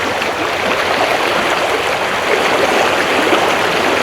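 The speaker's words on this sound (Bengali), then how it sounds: "পানির শব্দ, অনেক কলকল শব্দ।" Floodwater of the Teesta river rushing and gurgling, a loud, dense, unbroken roar of moving water filling the whole stretch with no voices.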